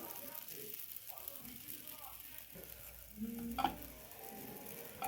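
An aloo paratha fries in a pan with a low, quiet sizzle under a voice talking, with a brief clink of a utensil near the end.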